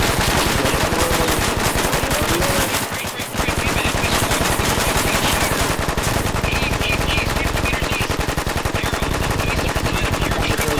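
Rapid automatic gunfire rattles nearly nonstop through a video game battle, loud and dense with overlapping bursts, a brief lull near the three-second mark before the firing resumes just as heavily.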